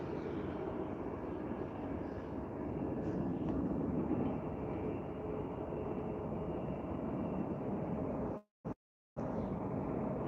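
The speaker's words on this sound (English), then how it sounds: "there we have our KLM initiated its pushback." A KLM airliner pushes back at Vancouver International Airport with a steady, broad jet-engine and ground-equipment rumble, moderately distant and continuous, cut by a brief dropout near the end.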